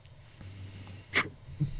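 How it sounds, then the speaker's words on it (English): One sharp, close sneeze bursts out in the middle of a live show, followed by a short snort or breath, against a low background hum. "we're all allowed to sneeze just whenever randomly in the middle of the show"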